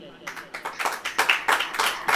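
A church congregation claps along during a Hindi-language worship service, a dense run of fairly close handclaps with a voice mixed in underneath.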